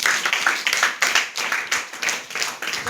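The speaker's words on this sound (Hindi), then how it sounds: "जोरदार तालियां।" A classroom of students claps loudly together during a lesson on the digestive system, a dense burst of rapid hand claps in uneven waves, close and energetic, with no talking.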